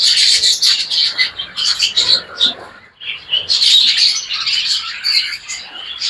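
Grey parrots (jako) in a breeder's aviary calling loudly nearby, sharp chirps and squawks in dense bursts with a brief pause midway.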